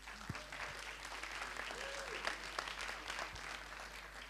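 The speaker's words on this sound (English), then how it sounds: "A big round of applause for them," Faint, steady applause from a startup pitch-event audience at How to Web 2018, a soft crowd patter of clapping over a low background hum, with a few voices mixed in.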